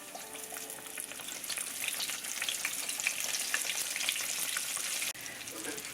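Flour-dredged pieces frying in hot oil in a pan, giving a dense, continuous sizzle with crackling pops close up, steady throughout apart from a brief dip near the end.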